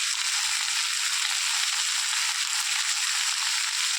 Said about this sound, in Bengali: আমি তো সবজিটাকে হালকা করে ভেজে নেবো